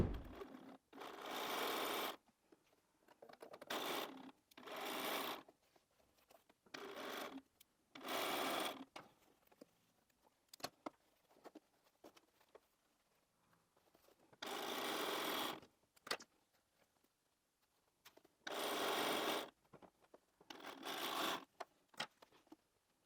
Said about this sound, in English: we're going to take those to the machine and attach this whole row together